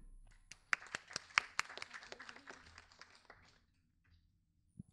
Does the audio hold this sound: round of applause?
yes